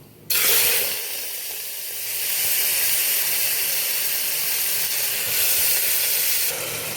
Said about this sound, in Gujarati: આપણે શાક જે કાપેલું છે કટિંગ કરેલું એ કુકરમાં નાખી દઈશું